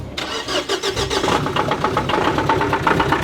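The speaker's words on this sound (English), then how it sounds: "The taxi was sounding a little ropey." A taxi engine cranks and catches, then runs roughly with an uneven, pulsing beat, loud and close with no voices over it.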